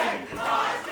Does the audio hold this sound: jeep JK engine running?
no